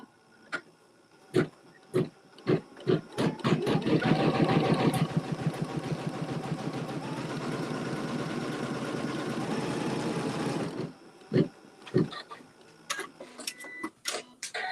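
Sewing machine quilting a pieced quilt block, a rapid steady mechanical stitching rattle running for about six seconds, bracketed by sharp clicks and handling taps before and after.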